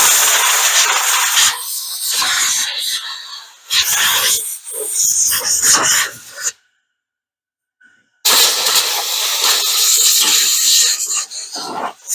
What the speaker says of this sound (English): So I'm gonna blow everything out of here that I can.